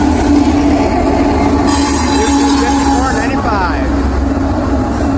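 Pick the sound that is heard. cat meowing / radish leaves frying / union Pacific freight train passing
union Pacific freight train passing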